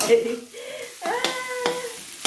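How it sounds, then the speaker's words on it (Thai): Eggs stir-fried with crab sticks and scallions in a pan give a soft sizzle and scraping stirs, with a few sharp clinks of the utensil, while a voice murmurs over the cooking. "ถ้าเกิดใครอยากให้ไข่สุกกว่านี้นะคะ ก็คั่วต่อไป"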